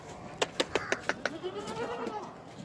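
At a livestock market, a goat gives a rapid series of about six short, sharp bleats at close range, followed by a softer drawn-out bleat, over a quiet background.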